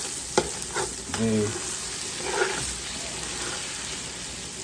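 Hamburger meat sears in a pan for spaghetti sauce, giving a steady frying sizzle with a few brief stirring scrapes, close and moderately loud, with a short spoken word near the start.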